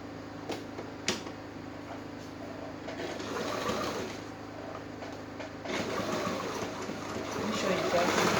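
A sewing machine stitches a dress in matching thread, with bursts of steady mechanical whirring that rise and fall, close by, while someone talks over it.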